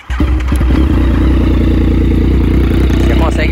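Yamaha MT-09 crossplane engine revving hard and close, a loud, steady, throbbing exhaust roar with an uneven pulsing beat that holds for the whole stretch.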